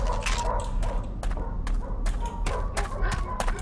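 Dogs bark repeatedly in the Underhell video game, sharp close yaps arriving in irregular clusters with a few dull thumps between them over steady low ambience.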